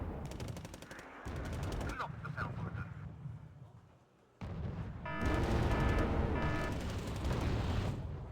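A vehicle in a video game fires its gun in sharp bursts and repeated rapid shots, loud and close, separated by a short quiet gap.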